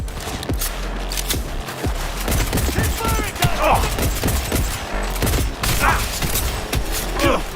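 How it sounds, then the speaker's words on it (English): Rapid gunfire from shock ammo in Cyberpunk 2077 on PS5: dense bursts of shots and sharp impacts crackle throughout, loud and continuous, with brief metallic zaps and mechanical clatter mixed in. "This dude is hitting me with shock ammo"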